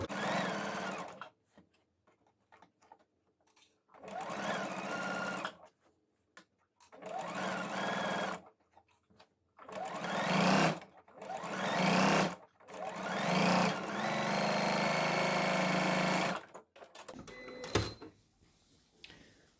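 A sewing machine stitches a row on shorts fabric in several loud, close bursts of whirring, broken by short pauses where the fabric is repositioned.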